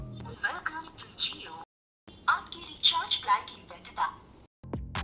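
A phone call placed through the small speaker of a Fire-Boltt Emperor smartwatch, with tinny voice-like sound in bursts broken by a brief silence and a faint tone near the end.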